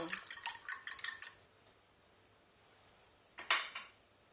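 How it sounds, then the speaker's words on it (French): A fork beats eggs in a bowl for a savoury ham, tomato and cheese cake, making a quick run of rhythmic metallic clinks against the bowl, then a pause and a short second burst. "je vais ajouter les œufs que je bats déjà un petit peu"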